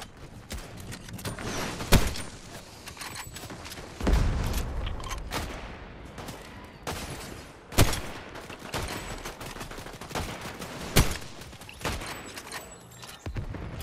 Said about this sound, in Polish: Tam ktoś do nas strzela?